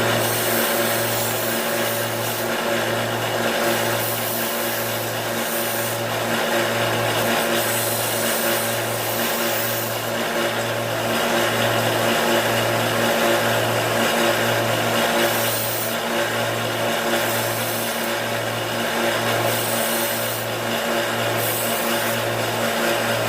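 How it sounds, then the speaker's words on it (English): A belt sander runs continuously while deburring the edges of metal blanks, a steady grinding whir with a regular low pulsing throughout, no talking. "You could file it if you don't have a belt sander, but this belt sander is great for many things."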